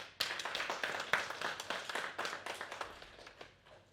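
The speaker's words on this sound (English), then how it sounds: "A round of applause." A small audience at a talk on reading culture in Namibia gives a round of applause, dense overlapping claps at moderate distance that taper off toward the end, no voices.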